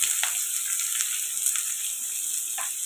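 Chopped onions and curry leaves fry in a pan with a constant, close hiss of sizzling oil. A few faint stirring scrapes sit under it, and no one speaks.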